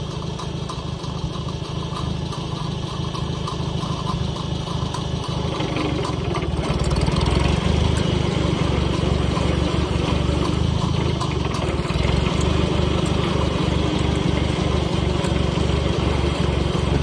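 An IH Farmall 140 tractor engine runs steadily at a constant idle-like drone while transplanting vegetables, a continuous mid-level rumble with no change in pace and no voices.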